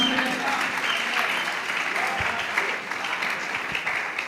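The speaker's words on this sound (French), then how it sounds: "Acclamons le Seigneur." A church congregation applauds together in a steady, dense burst of clapping that fills the whole stretch at close range, with no voices standing out.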